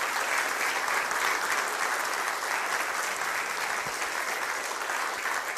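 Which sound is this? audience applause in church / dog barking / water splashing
audience applause in church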